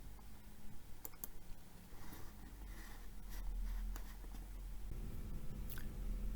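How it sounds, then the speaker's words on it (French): Mouse clicks come while an order is entered in purchasing software, several sharp, faint taps scattered over a low background hum, with no voices. "Je clique sur l'onglet Ligne de commande pour saisir le détail de ma commande"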